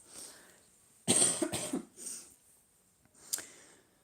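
Several sharp coughs close to the mic, a burst of two or three followed by a softer one and a final short cough after a pause.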